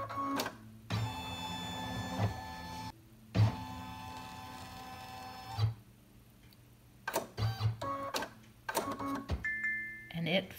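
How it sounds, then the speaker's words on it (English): An embroidery machine shifts its embroidery area during a scan, giving repeated short bursts of motor whirring broken by gaps and sharp clicks, fairly quiet and close. "The embroidery area is going to move over at my towel."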